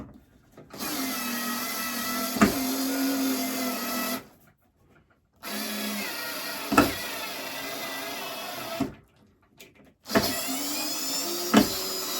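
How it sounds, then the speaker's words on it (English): A power driver whirs in three long sustained bursts, sending a screw into a model railway layout, close and loud, with short pauses between the runs and small knocks during them. "There is actually another screw hole in the middle there, which is going to get a screw put through it as well."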